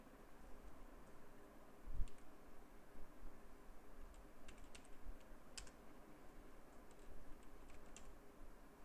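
Someone types a one-time password on a computer keyboard, giving a quiet run of light key clicks in irregular bursts over a low, steady background hum, with one louder thump near the start.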